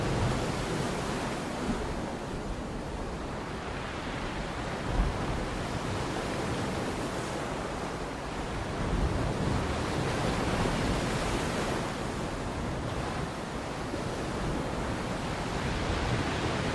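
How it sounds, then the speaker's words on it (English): Ocean waves breaking on a shore, a steady broadband roar of surf that swells and recedes continuously, loud and close, with no voices. "So I'm just gonna take a moment, just 5 seconds, to listen to the waves."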